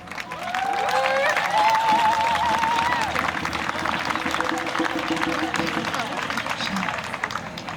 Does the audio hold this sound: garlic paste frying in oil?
no